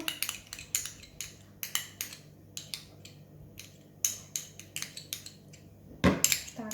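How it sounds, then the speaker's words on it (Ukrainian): A utensil clinks and scrapes rhythmically against a bowl while honey-mustard marinade with oil and lemon concentrate is stirred for chicken thighs, steady close taps continuing until a louder clatter near the end. "І тепер буду тепер змішувати все."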